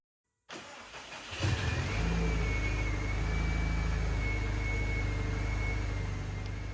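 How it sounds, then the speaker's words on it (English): A 2007 Subaru STI engine cranks, fires on its first start and settles into a strong, steady idle close by, with a slight rise in revs near the end and no talking. "there we go with the first start."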